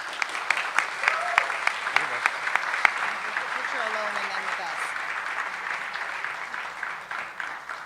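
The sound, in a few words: audience applause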